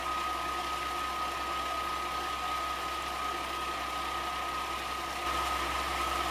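Diesel engine idling steadily after a cold start with preheaters used, a constant, even drone with a steady mid-pitched tone throughout, close and unbroken, without any talk.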